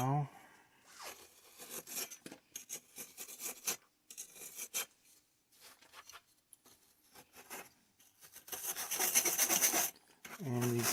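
A tool cuts a filling gate into soft casting sand for a homemade aluminum casting mold, making bursts of close gritty scraping and rasping strokes separated by short pauses.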